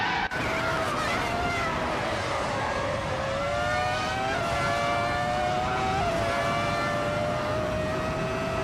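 A classic 1998 McLaren MP4-13 Formula One car races in a video game, its engine a sustained high-pitched whine that rises and falls through gear changes, steady and loud, with the drone of other cars beneath.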